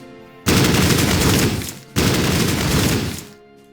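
Gunfire from the World War II strategy game Battle Academy comes in two dense, loud bursts of rapid rattling shots, each lasting about a second and a half with a short gap between.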